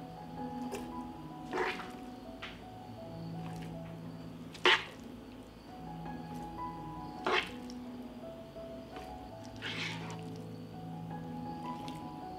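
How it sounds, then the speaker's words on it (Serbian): Fried meat being spooned into glass jars: wet, squishy scoops at irregular intervals, a few sharper taps, over a steady low kitchen hum. "Meso je isprženo i odmah ga sipam u tegle."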